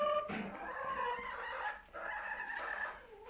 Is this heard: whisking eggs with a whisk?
no